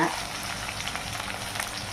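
Onions fry in oil for a fish curry, giving a continuous crackly sizzle with scattered pops at a steady, moderate level and no talking.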